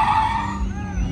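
A modified car on a track in Luziânia gives off a loud, sustained engine roar with a tonal whine that drifts in pitch, close and continuous over a deep rumble through the whole short stretch.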